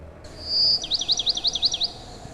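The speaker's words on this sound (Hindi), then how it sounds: "चिड़िया चहचहा रही थी" A single bird in a forest gives a high sustained whistle, then a quick run of about eight rapid warbling chirps, close and clear over faint background hiss.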